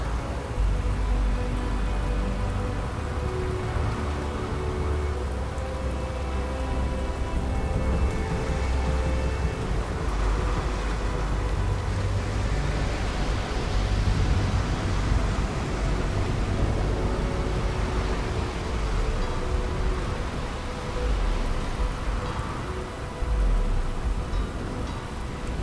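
Rain falls steadily over the lightning-powered city of Neon in the Starfield video game, a continuous broadband hiss with low rumbling underneath, like distant thunder, loud and unbroken for the whole stretch, with no voices.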